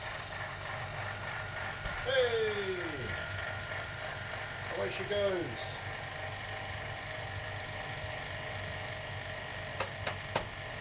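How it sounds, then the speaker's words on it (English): A steady mechanical hum of a vacuum pump, used for vacuum-drying ice cream, runs throughout, with a voice calling out briefly over it and a few sharp clicks near the end. "Get the vacuum pump fans going."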